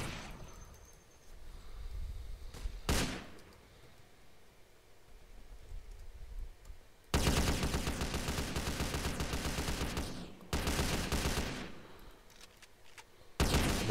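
Gunfire in GTA San Andreas Multiplayer, heard first as a couple of isolated sharp shots, then as long loud sustained bursts of rapid automatic fire with short gaps between them. A few quiet voices come through early on.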